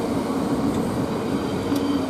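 A train rolls through Luton Airport Parkway railway station, a loud, continuous rumble of wheels and carriages passing close by without pause, with no talking.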